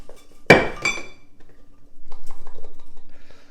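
Hard clinks of blender-crushed ice against glass while making a cocktail, two sharp bright hits followed by quieter rattling and a low rhythmic hum.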